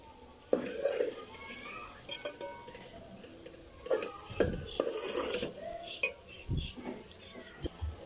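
Beef keema masala with potato is stirred in a pan over a medium-high flame, giving faint scraping and clinking of a spoon against the pan over a soft sizzle, in scattered strokes with quiet talk now and then.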